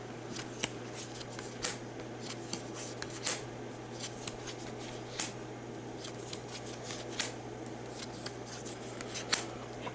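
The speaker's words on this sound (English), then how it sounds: "So I get to draw 6 cards for Clint." Cards from a Marvel Champions game are drawn and handled at a table, soft papery slides and flicks repeating at an irregular pace, close and quiet with no speech.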